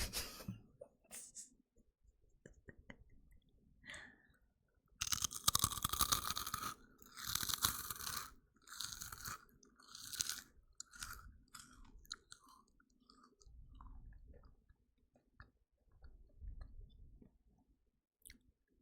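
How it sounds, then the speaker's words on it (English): Close-up crunchy chewing of a JTR Force snack, with bursts of loud crisp bites and mouth sounds that come and go, alone without talk. "I am going to eat crunchy JTR Force."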